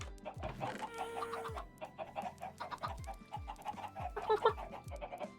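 A voice imitates chicken noises during a cooking livestream, with rapid clucking and squawking bursts that repeat in an uneven rhythm, loud and close over faint low background thumps.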